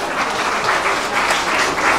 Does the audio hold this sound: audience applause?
yes